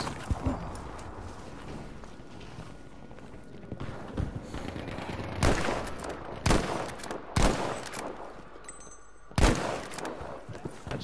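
Gunfire in Battlefield V gameplay, with scattered rifle shots and several sharp, loud bursts standing out over a busy background of distant battle noise.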